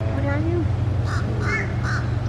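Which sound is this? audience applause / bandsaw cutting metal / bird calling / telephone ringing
bird calling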